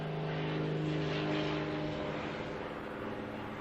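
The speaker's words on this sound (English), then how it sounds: "I'm sure I'll have cut out most of that airplane going by." An airplane passes overhead, a broad continuous engine drone with a steady tonal hum that swells slightly and then eases off, close and prominent, with no talking.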